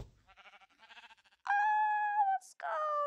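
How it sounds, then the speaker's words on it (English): Sheep bleating in Minecraft: a wavering tremolo bleat, then two loud, clear, sustained bleats close up, separated by a short hiss. "We got a sheep."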